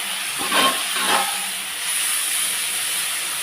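Cooked fenugreek greens dropped into a pan of browned garlic, giving a soft hissing sizzle that swells briefly as they land and then settles into a steady, fairly faint fizz.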